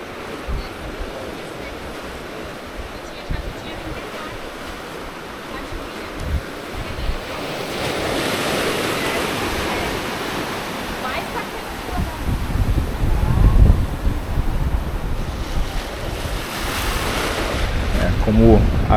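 Wind and ocean waves on a Florianópolis beach on a morning walk roll in as a constant, close wash of surf, with gusts of wind buffeting the microphone and the surge building louder toward the end.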